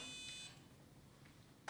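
A micro:bit powered from a battery pack plays a short electronic buzzer tune with steady high beeping tones for about half a second, followed by quiet room noise and a brief burst near the end.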